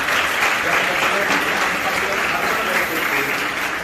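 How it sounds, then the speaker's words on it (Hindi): An audience at a women's empowerment event claps loudly and steadily for a few seconds, a dense, continuous burst of applause filling the hall. "एक बार जोरदार तालियां इनके लिए।"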